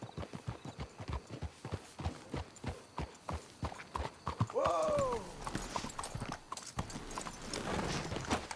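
Horse hooves clip-clop at a steady walking pace in Red Dead Redemption 2 as riders approach to hitch their horses, with a brief whinny midway and soft background sounds after.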